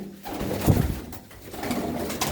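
Pigeons kept by a village fancier coo softly in a few low, rounded notes against a quiet outdoor background.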